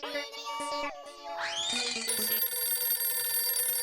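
A phone rings with a bright electronic tone, sliding melody then a steady high trill, loud and close.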